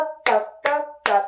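Three sharp hand claps spaced evenly about 0.4 seconds apart, keeping a steady beat in a rhythm-pattern drill, each clap close and bright with a short ringing tail.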